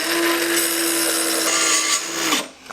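Dremel portable saw cutting through thin wood, a loud close whining buzz of the blade biting steadily through the board for over two seconds, then slowing and dropping off as the cut finishes.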